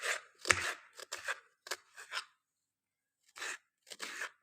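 An onion being cut on a board in a home kitchen, a series of short crisp chopping strikes in irregular bursts with brief pauses, close and fairly quiet.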